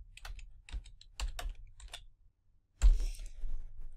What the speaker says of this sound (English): when we type in this line of code